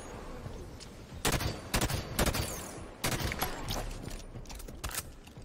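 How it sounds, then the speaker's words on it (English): Halo 5 multiplayer gunfire: sharp, loud bursts of shots in several distinct volleys, with short gaps between them over steady game background noise. "Those were warning shots."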